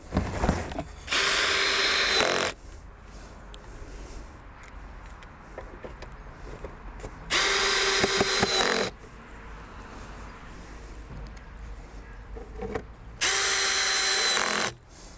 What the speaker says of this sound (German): haben wir das Dach an den Giebel geschraubt